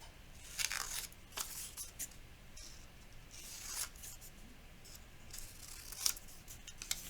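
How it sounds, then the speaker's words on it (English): Scissors snipping out small paper pieces for a blends sorting activity, a quiet series of crisp cuts and rustles in irregular bursts, close and alone with no talk. "And then just cut them all out."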